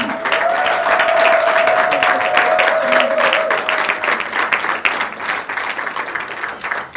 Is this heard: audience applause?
yes